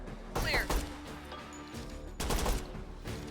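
Enemies shoot in the tactical game Door Kickers 2, firing two loud bursts of rapid automatic gunfire separated by a short gap, with a single crack at the end and a voice faintly underneath.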